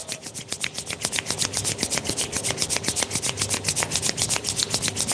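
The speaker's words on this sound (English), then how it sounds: "Rub your palms together." Two palms rub briskly together up close, making a steady, even run of rhythmic swishing strokes that repeats for several seconds with no voices.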